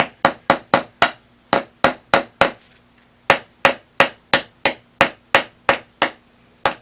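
Sharp hammer strikes on nails in quick bursts of four or five blows, a brief pause, then another run of steady, ringing hits close by.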